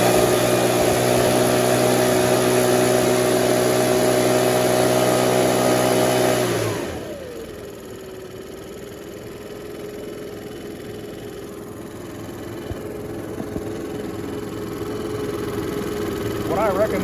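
A Makita/RedMax EB7660TH backpack blower engine runs steadily at high throttle, then drops sharply to a lower, smoother idle-like drone that continues to the end, loud and close.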